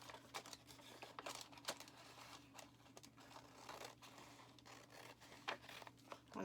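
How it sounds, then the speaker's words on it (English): Quiet, intermittent snips and crinkles of scissors cutting paper, with soft rustling between cuts and no voices. "Just going to use my scissors here."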